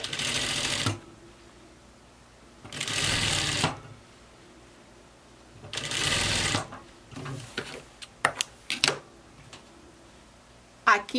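A sewing machine topstitches a skirt in three loud running bursts separated by pauses, followed by short mechanical clicks and knocks as the fabric is adjusted.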